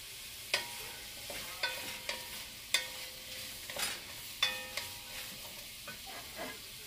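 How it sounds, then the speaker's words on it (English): Ingredients sautéing in hot oil for a fish and shrimp soup, a soft steady sizzle broken by repeated spoon scrapes and clinks against the pan every second or so. "Just sauteing them around a little bit. Just so that they can release some of their flavor."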